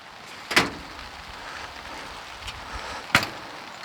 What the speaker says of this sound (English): All right, so the door is closed.